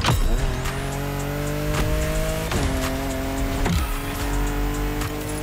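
A car drifts through sharp turns on winding Hawaiian mountain roads in the racing game The Crew Motorfest, with a loud steady engine drone and repeated tire squeals as the revs rise and drop through several slides.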